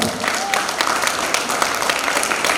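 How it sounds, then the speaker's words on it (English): Audience applause at a school event for Army Public School, a steady, dense spread of clapping that stays fairly loud and even throughout the short stretch, with a faint voice or tone briefly rising above it. "Kindly give Army Public School a big round of applause."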